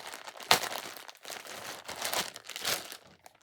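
Plastic packaging holding a ball of yarn crinkles and rustles close by in irregular bursts, with one sharp crackle early on and softer crumpling after it.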